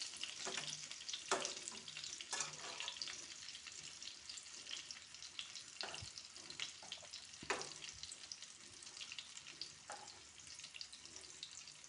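Stuffed pointed gourd fries quietly in a pan over a low flame, a soft, steady sizzle with a few sharp clicks and scrapes as the pieces are turned, and no voices.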